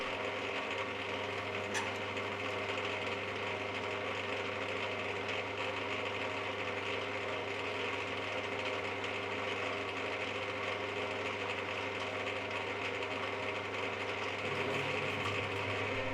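A lathe runs steadily while auto-feeding to cut a thread with a die holder, giving an even mechanical hum and whir at constant level for the whole stretch, with a slight shift near the end.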